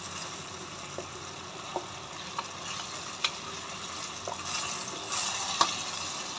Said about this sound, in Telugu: కొంచెం ఇంకా మగ్గుతుందండి. మగ్గి అంత ఆయిల్ బయటికి రావాలండి.